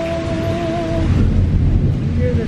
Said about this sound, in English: Hear the thunder? It's literally raining.